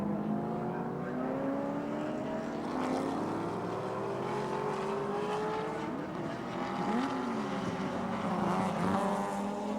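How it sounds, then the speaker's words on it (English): Touring race cars of 1984 at Symmons Plains, Tasmania, including a newly built Ford Falcon and a BMW, roar past in a continuous loud engine drone with rising and falling pitch as cars accelerate through the circuit. "Is Dick Johnson gone through with now a massive lead over Alan Grice."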